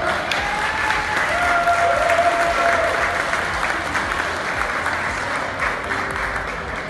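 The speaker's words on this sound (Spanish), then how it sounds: "Démele un fuerte aplauso a mi compañero" Sustained audience applause at a live informational program event, dense and steady for the whole stretch, with a few voices and a faint tonal whistle riding over the clapping.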